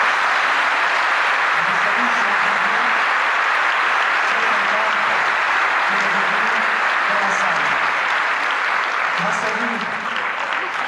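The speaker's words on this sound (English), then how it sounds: "vous pouvez applaudir d'ailleurs chaleureusement" Warm, sustained applause from a large conference audience at UNESCO in France, a dense even roar of many hands clapping continuously from start to finish with no pause.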